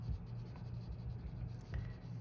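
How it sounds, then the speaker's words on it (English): Oil pastel dragged across paper like a pencil crayon, a steady close scratchy rubbing that continues throughout, with a small tap near the end. "So I'm gonna start off by just drawing on this like I would with a normal"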